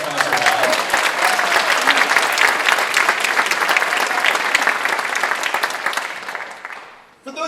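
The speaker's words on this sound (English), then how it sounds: "so a round of applause for our concert band." Sustained applause for a high school concert band in a performing arts center, dense clapping with crowd murmur that holds steady for several seconds, then fades out, before a voice briefly starts to speak at the very end.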